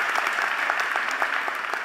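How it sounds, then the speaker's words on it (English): Applause from an audience at the installation ceremony of Bowie State University's tenth president, a steady dense patter of many hands clapping at moderate distance, filling the hall without pause. "yes, you can give her a round of applause for that."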